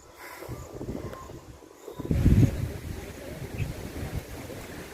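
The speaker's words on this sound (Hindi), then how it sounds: "देखिए कितना बढ़िया से हवा चल रही है और ज़ोरदार हवा चल रही है" Strong wind gusts across a high mountainside, roaring and buffeting the microphone in uneven surges, loudest partway through, with no talk.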